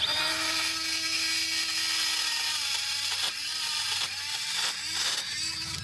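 A right angle die grinder grinding into steel, a loud continuous high-pitched whine with a steady buzzing drone, dipping briefly several times as the tool bites harder into the metal.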